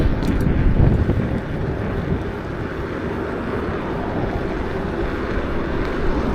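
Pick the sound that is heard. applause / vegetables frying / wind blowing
wind blowing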